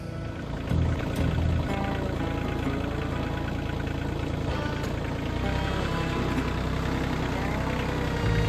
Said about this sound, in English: this morning I've got the tractor running